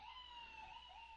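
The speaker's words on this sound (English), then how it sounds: "Sorry for the sirens outside." Wailing siren tones rising and falling steadily, faint and distant, with no voices.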